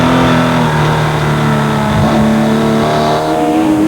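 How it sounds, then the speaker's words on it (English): A Porsche Supercup race car screams around the Hungaroring in 2002, its engine loud and sustained with shifting pitch as it passes, other cars droning underneath. "local touring car ace Attila Bata was running well in his Porsche guest drive."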